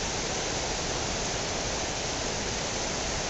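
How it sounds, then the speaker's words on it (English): Heavy snow-melt runoff rushes through Willow Creek in the Sierra National Forest, a steady, dense roar of water close by that stays loud and unbroken throughout. "just pouring through Willow Creek here in the Sierra National Forest."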